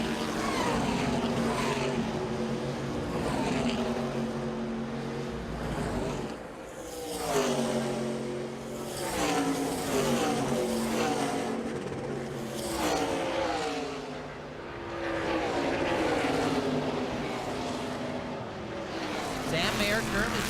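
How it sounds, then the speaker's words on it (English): NASCAR K&N Pro Series race cars race at Watkins Glen International, their engines roaring past in repeated swells as they brake and accelerate through the turns, with a voice underneath. "Can Mayer take advantage and outbrake him getting down into turn 1?"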